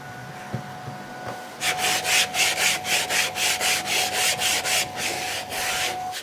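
Rhythmic back-and-forth sanding of a wooden parquet floor inside a house in Japan, about a dozen even strokes, close and steady, following a moment of quieter room noise.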